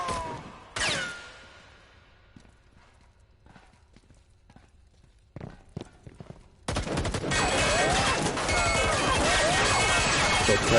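Gunfire in a multiplayer shooter video game: a few sharp isolated shots and impacts amid quiet, then a dense, loud, sustained burst of firing and clatter that fills the rest of the stretch.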